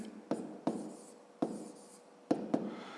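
Pen or pencil writing a sum by hand on paper, in short scratchy strokes with sharp taps at each start, five or so separate strokes, close and quiet.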